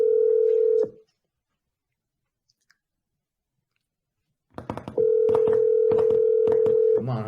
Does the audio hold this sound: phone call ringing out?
yes